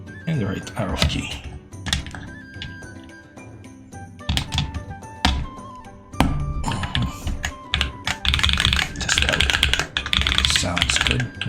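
Keycaps and arcade-style buttons pressed repeatedly on a GP2040 Huntsman controller during assembly, giving irregular clicky taps and thunks, close-up, with a person talking at times between presses.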